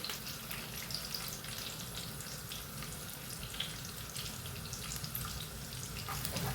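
Ginger and garlic frying in a pan for a potato egg curry, a faint, steady, even sizzle with soft crackles throughout and nobody talking.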